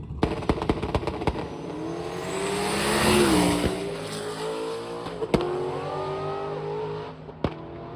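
Devin Vanderhoof's Mustang launches down a drag strip in a radial-class race, the engine roaring and rising through gears. Sharp cracks and pops come in bursts, and the loud run fades after several seconds.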